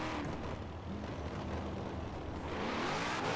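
A roaring car engine from a Formula Drift machine in Forza Horizon 4, rising and falling steadily at a loud, close, sustained level with little break.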